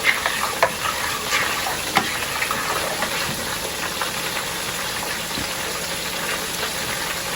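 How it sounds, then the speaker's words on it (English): A pot of pumpkin rice being stirred, a continuous bubbling sizzle with faint scraping and occasional knocks of the spoon against the pot, close and steady with no talking. "So let's do a little stir."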